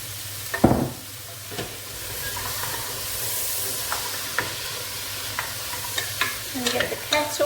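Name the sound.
frying butternut squash, carrots and swede in pan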